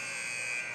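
An end-of-period buzzer at a youth hockey game sounds as a steady, fairly faint electronic drone held for under a second, with a little arena noise underneath.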